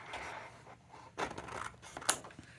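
Scissors snipping through bright pink, almost red cardstock, a few quiet cuts with a sharper snip near the end, close by and faint, no talking.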